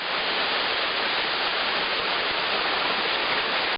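A steady, full roar of a waterfall pouring into a natural pool, close and loud, with no voices.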